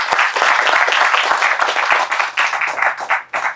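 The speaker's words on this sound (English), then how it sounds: "So a big round of applause for just that." Crowd at an outdoor Canadian federal election campaign event in Chinguacousy Park, Brampton, gives a dense, continuous burst of clapping and applause that thins out and fades toward the end.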